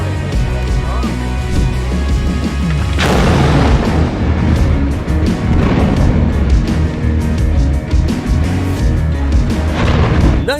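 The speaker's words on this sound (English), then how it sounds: "Nice to see a crane get demolished for a change." A crane structure comes down in a demolition: a loud, continuous roar of crashing and rumbling metal that swells into a heavy impact about three seconds in, then keeps grinding and booming throughout.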